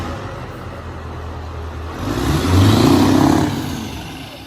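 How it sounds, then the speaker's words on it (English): Modified truck engine with upgraded turbo and injectors revs up from a low idle into a loud, rising roar that holds for about a second before easing off, heard outdoors with no talking. "Rev it."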